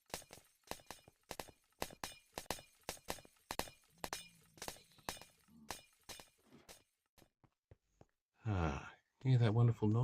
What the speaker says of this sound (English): That's the noise of zombified piglins going splat on the ground